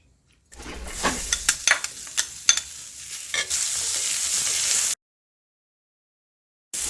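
Onion dropped into a hot pan for a cauliflower curry, with a few sharp stirring clatters followed by loud steady sizzling frying that cuts off abruptly, then silence.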